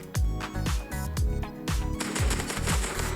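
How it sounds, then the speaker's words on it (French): Rapid automatic gunfire in the mobile shooter game Standoff 2, loud close bursts of repeated shots over game music and effects, without talk. "Ça tire à côté."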